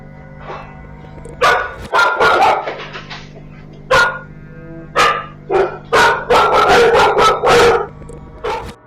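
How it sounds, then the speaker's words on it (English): Dogs barking on a home security camera recording at night, a series of loud, close barks and yips in bursts, growing more rapid and continuous toward the end, over a steady electronic hum. "Right before the dogs start barking, a creepy voice whispers"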